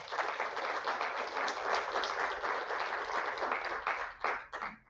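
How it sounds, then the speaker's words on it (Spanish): An audience gives a round of applause honoring poet Gabriela Mistral at a talk, a full steady patter of many clapping hands that thins out into a few scattered claps at the end. "Un aplauso para Gabriela Mistral"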